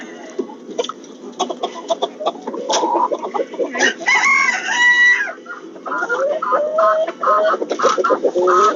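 Chickens cluck busily in a backyard flock while a rooster lets out a loud, drawn-out crow midway and the hens keep up close, irregular clucking and calls all around.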